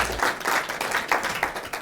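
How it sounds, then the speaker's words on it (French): Audience applause on a Burkina Faso television broadcast, a short burst of rhythmic, fairly close clapping that keeps a steady pulse. "Ils sont là, ils vont s'applaudir très fort."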